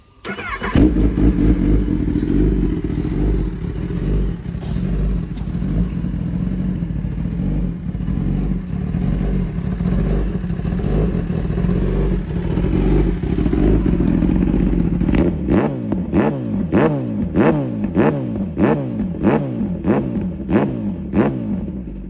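Kawasaki ZX10R SE sport motorcycle engine running close and loud, a steady rough drone for about fifteen seconds before sharp repeated throttle blips rise and fall in quick succession.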